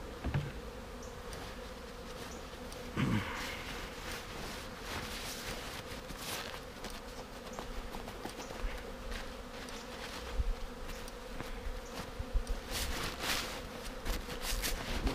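Honeybees from a package colony swarm around an open hive during an inspection of supers and a third box, a dense, continuous close buzz with occasional light knocks and handling sounds, no talking.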